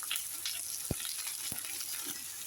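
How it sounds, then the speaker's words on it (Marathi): Masala of poppy seeds, sesame, caraway, ginger and garlic frying for mutton curry, a faint continuous hiss of oil with three soft spoon taps, no speech. "आपला मसाला व्यवस्थित फ्राय झाला आहे"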